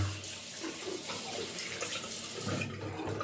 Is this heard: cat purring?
no